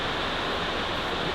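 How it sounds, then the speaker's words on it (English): Steady rain falls outdoors during repair work on a TEA20 tractor's PTO seal, a dense continuous hiss with no talk. "Sorry about the rain again."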